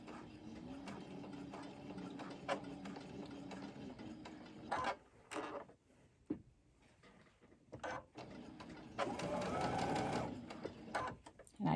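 A sewing machine stitches over a seam on fabric in bursts of rapid, mechanical whirring and clacking, stopping and restarting several times with quiet gaps and small clicks between runs, close up.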